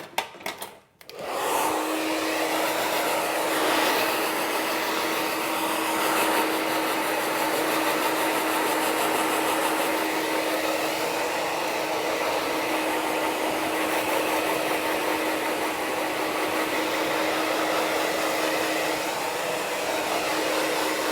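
A hair dryer blows on a medium bob haircut in a salon. It starts with a short click and then roars in a loud, steady, continuous rush close by for about twenty seconds, with no talking.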